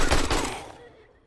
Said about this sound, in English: Pop him a little bit with the AK.